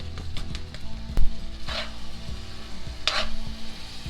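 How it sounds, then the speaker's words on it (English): Bacon frying in a pan while making slow cooker chili, a soft sizzle under a couple of bursts of stirring scrapes and a light utensil knock, heard up close without speech. "I'm going to throw that bacon in there."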